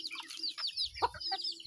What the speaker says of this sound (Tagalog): sinatawag ko na yung aking mga alagang manok